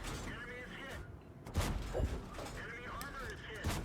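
Tank cannon fire in a tank video game, with heavy booming shots and mechanical clanks spaced a second or two apart, loud and close, among engine rumble and game effects and someone talking.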